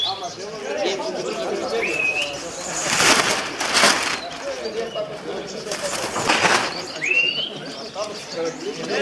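About 200 tumbler pigeons at a competition beat their wings in two loud whooshing bursts of flapping as the flock takes off and passes, with people talking excitedly and a couple of short whistles in between.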